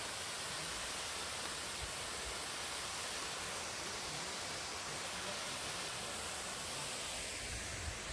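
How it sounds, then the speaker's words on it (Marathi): A roadside waterfall produces a steady, even roar of falling water, continuous and moderately faint, with no talking. "उजव्या बाजूला हा मस्त एक धबधबा मिळतो आपल्याला"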